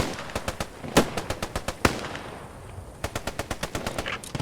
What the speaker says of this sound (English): We're being shot at on top of the FOB building.